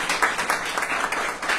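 Steady applause from a crowd at a sports awards ceremony fills the moment, dense and continuous with no voices standing out.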